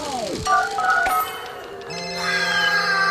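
Phone-call ringing tones from the small speaker of a Wii Remote during a Rabbids game: a series of short electronic beeps and sustained tones at moderate level, ending in a steady ringing drone.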